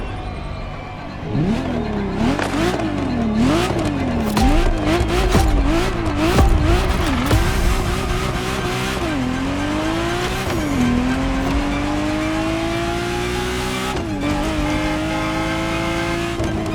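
A Ferrari Testarossa in the racing game The Crew Motorfest, its engine revving up and down through repeated gear changes, then holding a long rising pull, loud and close with tire noise underneath.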